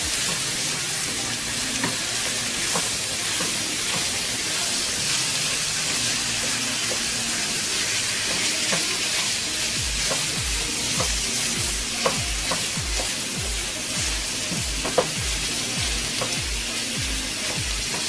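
Stuffed bell pepper filling sizzles steadily in a hot pan as it cooks down, with a continuous frying hiss and periodic stirring scrapes, close and alone without talk.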